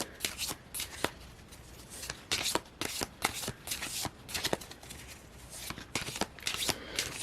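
Tarot cards being shuffled by hand in a series of crisp riffling bursts, close and steady over about seven seconds, with no speech.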